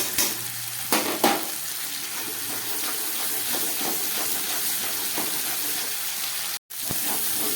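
Ginger, tomato and chilli powder sizzle steadily in a pan for a vegetarian potato curry, with a few sharp scraping and stirring knocks early on and a brief dropout near the end.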